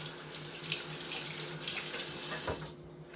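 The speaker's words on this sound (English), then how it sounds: "Do my hands a fast rinse." A kitchen tap runs steadily for a quick hand rinse, a continuous close splashing hiss that cuts off near the end, with no talking.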